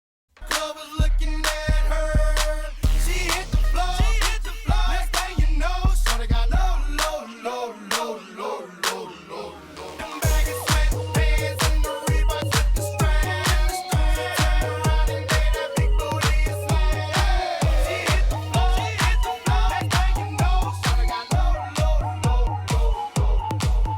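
Two dance tracks slam-mixed by a DJ overlap, with a steady thumping kick and busy synths abruptly cut in partway, loud and continuous with no talking.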